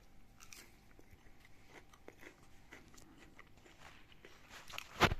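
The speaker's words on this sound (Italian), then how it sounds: "Questi fiori si tagliano con la forchetta. Sono veramente teneri." Fried courgette flowers being cut with a fork and eaten: soft, quiet crunches and chewing with faint scraping, ending in one louder, sharper clink or scrape.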